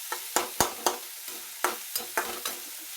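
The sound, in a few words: urad dal frying and being stirred in a pan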